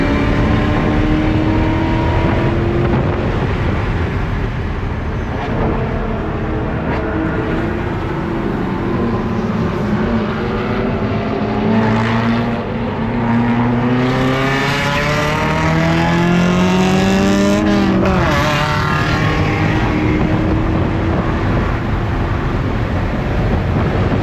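Chevrolet Corvette C6 on a race track during a track day, engine loud and close as it repeatedly revs up through rising gear sweeps, briefly lifting off before accelerating hard again.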